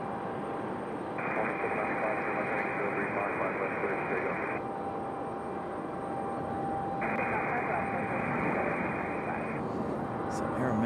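Delta Airbus A319 airliner on its departure roll at an airport, a steady distant roar of jet engines with a broad hiss that holds throughout, faint and far off, with a radio-like tone layered over it in stretches.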